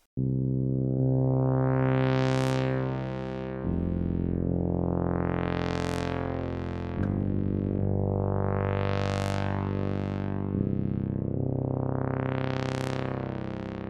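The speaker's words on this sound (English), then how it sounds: "every delay and reverb inside the SurgeXT synthesizer, so that you get something like this" A deep Surge XT synthesizer bass plays sustained notes with repeating swept filter rises, each tail washing out in echoing delay and reverb; no voices.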